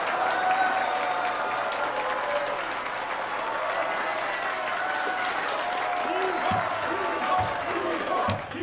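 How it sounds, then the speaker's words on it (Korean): Sustained applause fills a hall as an audience welcomes a three-term National Assembly member at a public event; the dense clapping stays loud and steady throughout with a faint crowd murmur beneath. "큰 박수 부탁드립니다."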